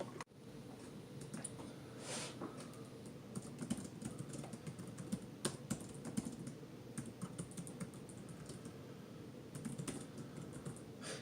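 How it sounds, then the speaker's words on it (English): Someone types at a computer keyboard, a steady patter of soft, quiet keystrokes with occasional sharper clicks running throughout, close and alone with no talking. "Typey type type type."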